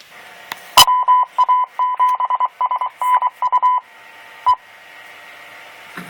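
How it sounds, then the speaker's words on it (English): A rapid series of clipped mid-pitched electronic beeps in Morse-like rhythm, a ham radio repeater's Morse code ID, loud and close, ending with a final short tone before quiet hiss. "those tones you heard is the Morse code for the ID for the repeater"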